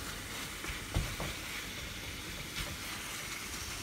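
Merguez sausages cook in tomato sauce in a pan, giving a faint continuous sizzle and bubbling with a couple of soft knocks, and no voices.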